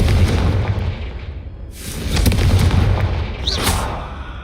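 Fiery Confringo spell blasts in the Hogwarts Legacy video game, heavy booming bursts with rumbling low end, one around the middle and another near the end, loud and close with no talk.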